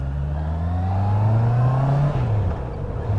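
A Honda CB650R A2 motorcycle engine runs while riding. It holds a steady mid-pitched drone that rises in pitch as it builds, then drops back, loud and close, with no talk.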